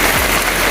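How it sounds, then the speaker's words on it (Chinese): Rain pattering on a tent during a camping trip at Wuling, a dense steady hiss of drops on the fabric, loud and close throughout the short moment with no talking. "搭到一半下雨"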